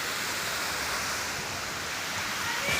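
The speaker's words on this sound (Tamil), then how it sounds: "ஃபுல்லாக அந்த தண்ணி போகிறது" A village stream running full and strong, a continuous hissing rush of water, steady and even throughout with no voices over it.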